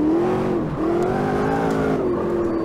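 Seven-litre V8 mid-engine race car in Automobilista 2, loud and close, holding a steady revving drone that dips for a moment, climbs again and then eases slightly as the pitch shifts.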